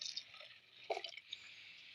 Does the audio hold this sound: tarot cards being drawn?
no